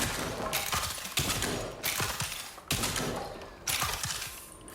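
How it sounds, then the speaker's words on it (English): A machine gun fires in the VR game After the Fall in four or five loud, clustered bursts separated by short pauses. The shots sit over a constant background wash of game ambience. "machine gun's pretty nice though."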